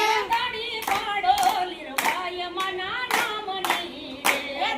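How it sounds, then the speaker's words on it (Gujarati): Hands clap in a steady rhythm along with a sung devotional aarti song, the sharp claps close and distinct over the voice. "તાળી પાડો"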